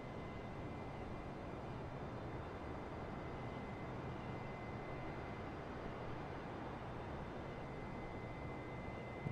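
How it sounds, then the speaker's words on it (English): Airplane engine drone in the video game Microsoft Flight Simulator 2020, a steady, even broadband hum with a faint tonal whine, continuous and fairly quiet throughout. "let me try to level off my airplane here"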